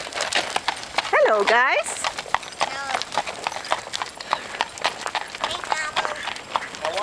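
Horse hooves clip-clop in a steady rhythm over the ground on a family ranch ride, with a horse whinny early on, while a person talks over the hoofbeats.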